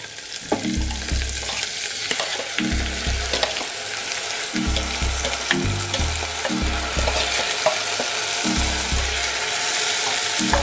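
Soaked broken wheat (dalia) roasting and being stirred in a pan with cabbage and vegetables, a steady sizzle broken by rhythmic scraping strokes of the spoon, close and continuous with no voices.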